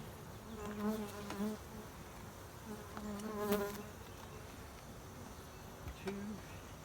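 Honeybees buzz around an opened hive during a sugar-water feeding and inspection, with a faint, steady droning hum and individual bees passing close by in louder swells.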